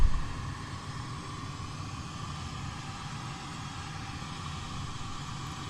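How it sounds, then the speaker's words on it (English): A pink noise test track plays through a Smart car's door speakers, a steady, even hiss with a faint low hum, holding at constant level throughout after a brief louder start, with no talk. "Okay, we're playing this pink noise track."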